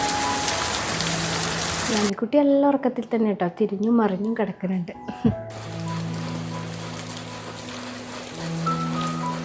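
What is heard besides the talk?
steady rain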